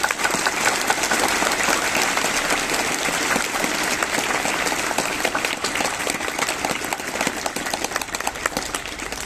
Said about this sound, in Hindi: आप अपने ब्राइट फ्यूचर के लिए, एनर्जी के लिए एक बार जोर से तालियां लगाएं